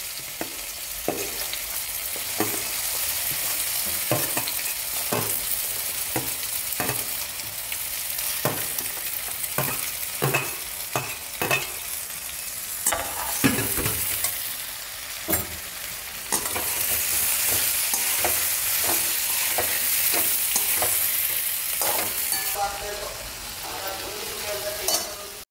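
Finely chopped dates are dry-roasted in a pan. Loud, close scraping and stirring strokes repeat at an uneven pace over a constant dry sizzling hiss, with no voices.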